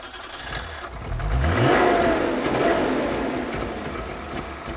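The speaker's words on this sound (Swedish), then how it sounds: "Den låter som en Saab och den ryker som en Saab också." A vintage Saab car engine runs steadily nearby, its revs rising briefly then settling into an even, throaty drone.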